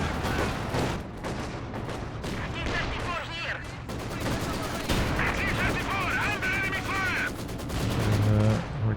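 Dense gunfire and artillery blasts from a Company of Heroes 2 match, with rapid bursts and heavy booms rolling on continuously while a voice talks over the battle.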